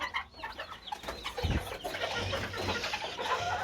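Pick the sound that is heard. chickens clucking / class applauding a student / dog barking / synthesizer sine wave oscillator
chickens clucking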